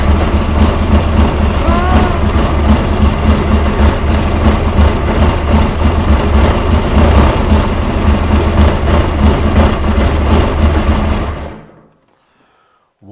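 A Buell XBRR motorcycle, unstarted for three or four years, idles with a deep, grumbly, steady rumble close by, then cuts off abruptly near the end, leaving silence.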